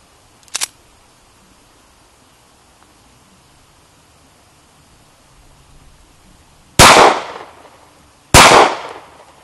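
A Sig Sauer P938 9mm pistol fires outdoors. One sharp shot comes first, then after a long quiet gap two loud, close reports about a second and a half apart, each with a short ringing tail.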